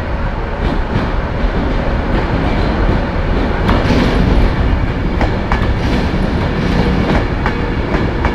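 A passenger or freight train passes close by on a railway line, a loud steady rumble with rhythmic clickety-clack of wheels over rail joints and occasional squeals, continuous throughout.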